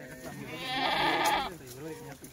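A Kathiawadi goat on a farm gives one drawn-out, wavering bleat at close range, rising and then fading. Faint talk can be heard before and after it.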